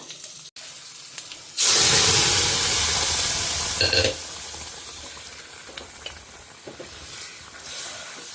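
Vegetables for a curry hit a hot pan with a sudden loud sizzle. The frying hiss is strongest at first, then settles to a softer crackle with a few light stirring clinks.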